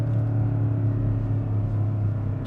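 A 2025 BMW X7 M60i engine rumbles steadily from inside the cabin during a test drive, a close, low drone holding a fairly even tone with no voices.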